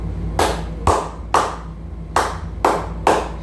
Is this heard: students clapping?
yes